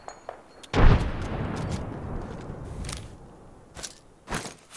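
A frag grenade in Apex Legends detonates in one loud close boom, and its rumbling tail decays over several seconds as faint gunfire cracks pop in the background.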